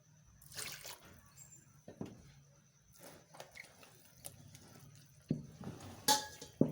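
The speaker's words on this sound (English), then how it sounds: "If it needs more water, you add." Water is added to corn cake batter in a bowl, heard as intermittent splashes, drips and soft squishy stirring close by, with clinks of utensils toward the end.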